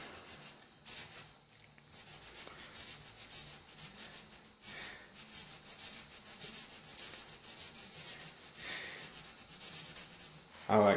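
Sandpaper scrubs a fiberglass bowfishing arrow shaft in uneven back-and-forth strokes, a close, faint, dry rasping with short pauses between bursts.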